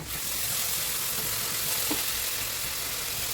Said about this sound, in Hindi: मसाला बहुत अच्छे से धीमी आंच पे ढक कर गला लेते हैं ताकि प्याज टमाटर सब गल जाए।